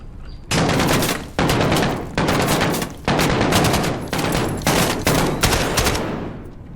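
Rapid automatic gunfire from the video game Call of Duty Modern Warfare, loud and close, in several sustained bursts separated by short breaks and sounding with no talk over it.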